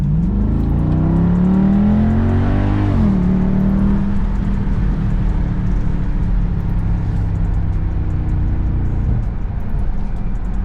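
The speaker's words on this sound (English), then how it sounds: "So I could do a little acceleration for you guys right here." A 2021 Dodge Durango SRT engine accelerates hard, a loud rising roar that shifts once near the start and then settles into a steady heavy drone, heard from inside the cabin.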